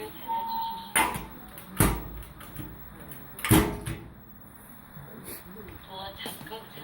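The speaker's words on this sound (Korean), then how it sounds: "보관함의 문을 닫아주십시오." A storage locker door at a self-service laundromat swings shut with a few sharp clunks and thumps, spaced a second or two apart, against a quiet room background.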